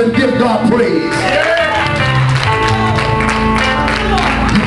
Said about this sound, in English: Somebody clap your hands and give God praise